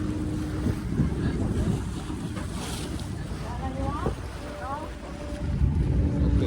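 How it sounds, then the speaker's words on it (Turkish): A tour boat motors across the sea at Hurghada in sunny weather, its steady engine drone and rushing water mixed with wind buffeting close by, while people talk faintly over it. "Şu anda tekneye bindik ve denizaltımıza doğru gidiyoruz"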